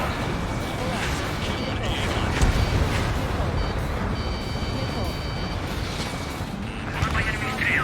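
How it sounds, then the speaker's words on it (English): Anti-air gun fire in the Ace Combat 7 flight combat game: continuous dense rumbling flak and explosions with jet noise, steady and loud throughout, with radio-style voices speaking over it. "That's what the anti-air guns are for."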